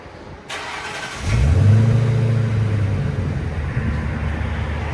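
A 2004 Lincoln Town Car's 4.6L V8 fitted with Flowmaster Flow FX mufflers turns over and fires up, then settles into a loud, deep, steady rumbling idle nearby.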